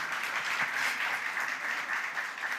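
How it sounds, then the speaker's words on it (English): Audience clapping at an alumni business breakfast, a brief, even wash of many hands applauding at moderate volume throughout. "Do you want to clap for that?"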